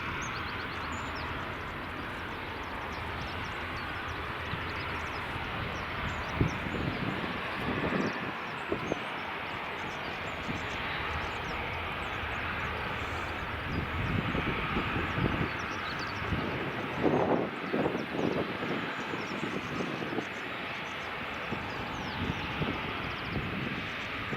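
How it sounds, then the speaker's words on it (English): Norwegian airliner taxiing to the runway at Edinburgh Airport: a steady, moderately loud jet engine whine and rumble heard from a distance, with wind buffeting the microphone and a few brief louder gusts. "Norwegian is finally taxiing to the runway."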